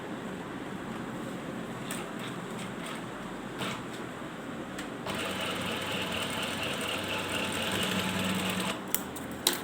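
A sewing machine stitches a two-piece collar in steady close runs, its whirring mechanical chatter continuous with a brief pause and a few clicks near the end.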